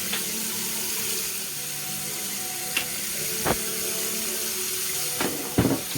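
Food being washed with water, lemon and vinegar for Jamaican stew peas, running water and splashing in a sink with occasional clinks and knocks, steady and close.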